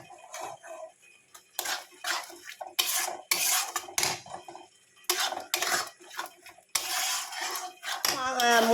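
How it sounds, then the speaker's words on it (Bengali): Spices with chicken and vegetables being sautéed in a pan, a metal spoon scraping and clanking against the pan in repeated bursts of stirring, close and fairly loud, with short pauses between strokes. "ভালো করে একটু কষিয়ে নিচ্ছি।"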